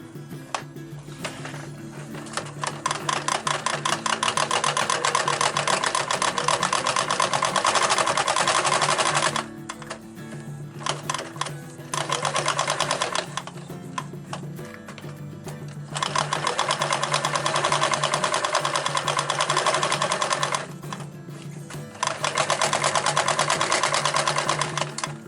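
Sewing machine stitching a fabric chest pouch, close rapid mechanical whirring in several long bursts separated by short pauses.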